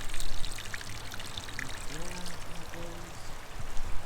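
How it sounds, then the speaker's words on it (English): Water flowing out of a water trough outlet, a steady splashing pour with a soft hiss, continuous and close, with a faint voice partway through. "This one should have some water coming out."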